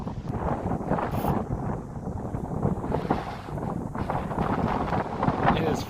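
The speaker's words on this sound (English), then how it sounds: "it's highway speed winds" Strong, highway-speed wind roars and buffets the microphone continuously on the Lake Erie shore at Geneva, Ohio, a loud rushing gust with no letup.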